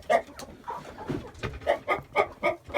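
A mother hen with thirteen chicks clucks in a rapid run of short, close calls, with faint background noise and no speech.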